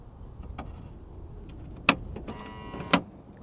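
Mechanical latch on a Toyota Tacoma engaging around a bolt, two sharp clicks about a second apart with a brief whirring catch between them, close and fairly quiet.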